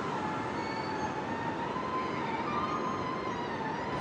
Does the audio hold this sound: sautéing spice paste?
no